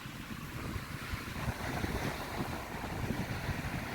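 Steady wind buffets the microphone on an overcast beach, a constant rushing and rumbling noise with no voices.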